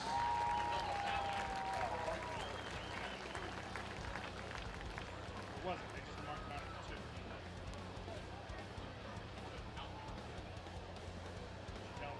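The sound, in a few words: stadium crowd applauding the Colerain High School Hall of Fame class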